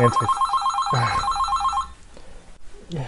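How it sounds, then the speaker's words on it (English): A telephone rings in a video game, two bursts of a warbling electronic bell tone, fairly loud and close, trailing into a quieter pause with faint clicks. "random phone call with no one on the other end"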